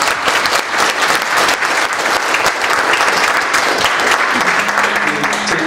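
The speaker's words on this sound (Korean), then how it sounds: "여러분 큰 박수를 쳐주면 더 멋있게 잘할 것 같습니다" Loud, dense applause from an audience at a Korean political forum on fair economic growth fills the whole stretch steadily, with a brief low tone entering near the end.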